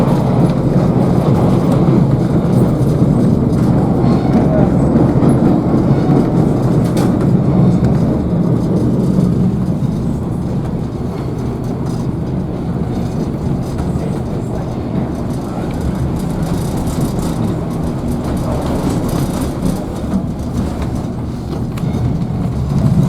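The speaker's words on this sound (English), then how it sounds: "You can imagine traveling on a Southern Railway passenger train in the early 20th century" Southern Railway passenger train rolling through a tunnel on the west side of Missionary Ridge near Chattanooga, Tennessee: a loud, steady low rumble and roar fills the whole stretch, close and enclosed, with faint rhythmic wheel clatter.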